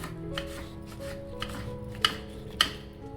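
A knife chops ridge gourd finely on a board, with a few soft taps and then two sharp, distinct knocks against the board close by, in a quiet kitchen.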